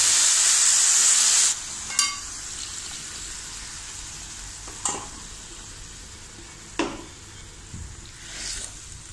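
A wooden or metal spoon stirs banana stem avial with ground coconut paste in a pan, giving a few soft, scattered scrapes over a faint simmer after a brief loud hiss at the start. No one speaks.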